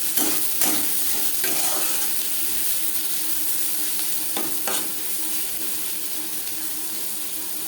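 Onion, tomato and garlic fry in a pan for a Bengali chala fish tomato jhal, giving a steady close sizzle broken by a few sharp stirring scrapes, with no talking.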